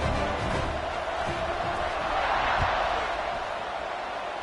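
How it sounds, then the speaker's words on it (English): Crowd noise in an American football video game swells as a steady stadium roar with a few thuds and bursts, building slightly midway. "They're set to kick it off, and this crowd now ready to get behind them."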